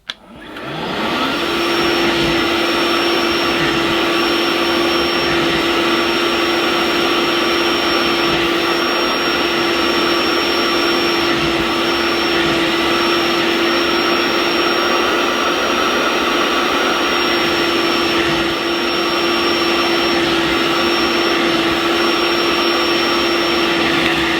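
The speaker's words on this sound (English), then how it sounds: "So I'm going to start picking up the soiled solution now." A Vax Onepwr SpotlessGo cordless spot washer spins up and then holds a loud, steady suction whine with a constant tonal hum while picking up soiled cleaning solution, running alone without talk.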